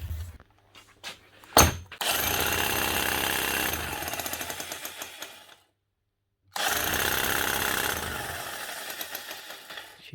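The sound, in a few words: Makita HR5000K demolition hammer hammering on test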